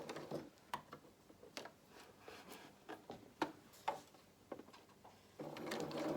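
A domestic sewing machine stitches fabric frills for children's shorts and dungarees. Short, faint bursts of mechanical clicking give way to a steadier continuous run at the end.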